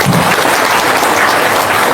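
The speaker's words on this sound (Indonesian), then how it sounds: "Tepuk tangan dong." An indoor audience claps together in a dense, loud burst of applause, steady throughout with no talking over it.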